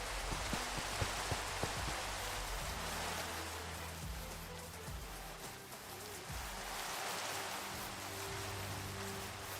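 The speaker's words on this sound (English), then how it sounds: "It's raining." Steady rain in a video game falls as a dense, even hiss, with soft low thuds and faint tones from the game sounding underneath.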